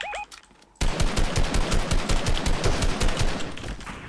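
Dense, loud automatic gunfire in the game Fortnite rattles off in rapid continuous bursts after a brief quieter moment with a couple of short electronic tones.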